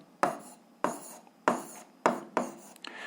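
Pen or chalk writing out a physics formula, five short scratchy strokes in an even rhythm, close and fairly quiet, no talk.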